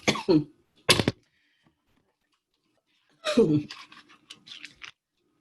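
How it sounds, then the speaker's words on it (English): Two sharp coughs ring out close by, followed after a pause by another harsh cough and some throat-clearing sounds. "I have this unfortunate habit of coughing somewhere in the middle of a class or the beginning"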